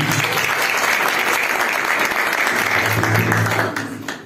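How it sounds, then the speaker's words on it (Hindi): A church congregation at a one-day prayer meeting at Fazal Memorial Church claps loudly and steadily, a dense sustained wall of applause that tapers off in the last second. "दोनों हाथ जिंदा खुदा के लिए जोरदार तालियां"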